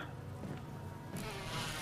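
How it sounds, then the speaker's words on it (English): A swarm of bees from the Resident Evil remake video game buzzes as a faint, continuous drone under game noise, growing a bit louder and brighter in the second half. "Not the bees, not the bees!"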